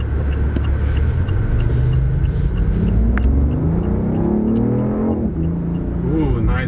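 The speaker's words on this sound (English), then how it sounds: "It must be the world's most aggressive sounding 3-cylinder" A 2016 BMW i8's three-cylinder engine revs hard and loud, with rising and falling pitch sweeps over a steady low rumble, close by and continuous throughout.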